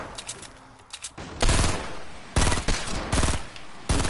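Bursts of automatic gunfire from a PS4 shooter game, loud, close-range volleys at a steady stuttering rhythm separated by short pauses, with no talk during the shots.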